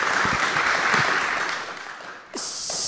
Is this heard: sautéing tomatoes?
no